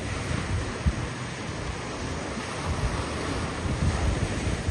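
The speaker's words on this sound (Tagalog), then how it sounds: "Dito ang daming lakas ng alon oh." Strong surf crashes steadily onto a shore, a dense continuous roar of breaking waves with wind buffeting the microphone and no talk.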